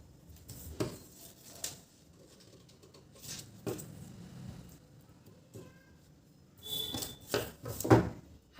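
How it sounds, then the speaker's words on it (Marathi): Scissors snip paper while a 36-size princess-cut blouse pattern is being cut, giving scattered short crisp cuts and rustles, with a faster cluster of snips near the end, close but fairly quiet. "आता हा एक इंच आपण हा हा पण कट करून टाकूया"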